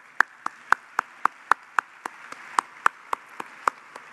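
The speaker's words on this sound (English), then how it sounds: "Round of applause for them." At a gala for a Hispanic civil rights organization, sharp, evenly spaced claps ring out about three to four per second, crisp and close, sounding more like a few hands than a full crowd.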